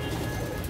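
A homing pigeon in a breeding loft gives a brief, soft, low coo, heard close by over faint background noise.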